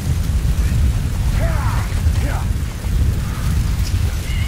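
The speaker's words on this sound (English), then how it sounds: "Damn storm." Rain pours steadily in a thunderstorm in the video game Metal Gear Solid V, with a dense hiss over low rumbling, and faint voice fragments drifting through the noise.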